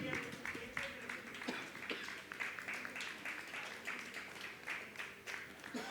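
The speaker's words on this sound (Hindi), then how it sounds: "जोरदार तालियां बजा करके अभिनंदन करते हैं" A religious gathering's audience applauds, giving soft, steady, distant clapping that continues throughout without clear breaks, with a faint trace of voices underneath.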